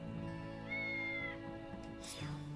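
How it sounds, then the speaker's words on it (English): A cat on a rooftop in the video game Star Ocean The Divine Force gives a clear, drawn-out meow over a steady tonal game music bed, with no talking. "There's a cat up here."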